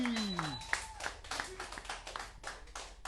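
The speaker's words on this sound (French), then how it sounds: "Un tonnerre d'applaudissements pour" Audience applause for guitarist Gigi at a live concert, scattered clapping hands with individual claps standing out, fairly quiet, while a voice speaks over the opening moments.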